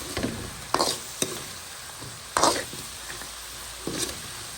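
Fish with greens frying in a pan, a soft constant sizzle broken by several separate spoon scrapes as the mixture is stirred, close by.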